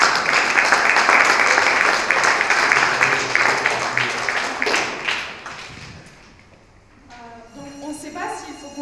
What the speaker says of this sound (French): On applaudit tout de même à notre champion de catégorie.